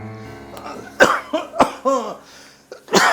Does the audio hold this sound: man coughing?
yes